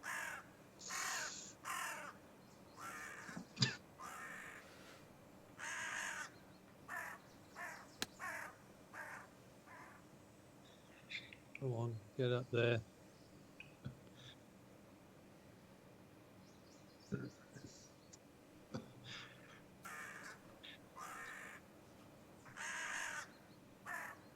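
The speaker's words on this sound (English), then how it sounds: "making this crow the text notification" A crow caws repeatedly on a golf course, loud harsh calls in uneven bursts across the whole stretch, with a man's brief muttered words and faint outdoor background between calls.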